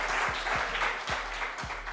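An audience applauds Intare School at a live televised challenge show, moderate steady clapping with a low periodic thump running underneath.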